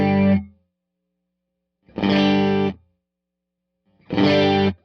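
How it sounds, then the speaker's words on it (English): Electric guitar run through a chorus effect on a Fractal FM9 modeler, heard as three loud, chord-like strums separated by silences, each with a shimmering, thickened sustain that cuts off sharply. "My chorus now feels louder though than my dry signal"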